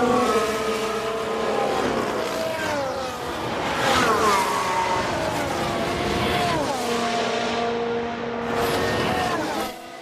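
Loud racing car engines roar and shift pitch continuously, with a sharp rev drop and some skid-like noise midway, steady throughout, during a crash in F1 Manager 2022 practice at Miami Gardens.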